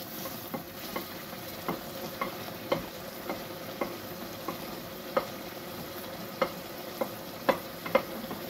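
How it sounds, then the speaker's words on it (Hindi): Tomatoes stirred into a pan of frying lamb karahi with onions, garlic, ginger and chillies. A steady sizzle runs under a spoon scraping the pan in irregular taps and clacks, close up, with no talking. "टमाटर ऐड करूँगी"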